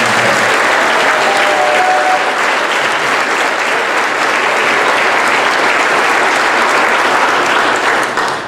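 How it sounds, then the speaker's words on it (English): Loud, sustained audience applause for a student band at a school spring concert, a full room clapping continuously for over eight seconds before tapering at the very end. "Can we give them another round of applause?"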